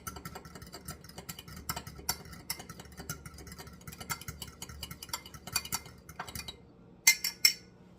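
A single egg is whisked lightly in a bowl, giving a quick run of light, rhythmic clinks and taps close by that ends with a few louder knocks.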